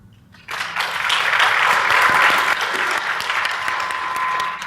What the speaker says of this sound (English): give a warm round of applause to all the volunteers, like Angelo, people helping the staff, and